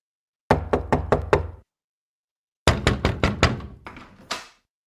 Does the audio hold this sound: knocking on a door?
yes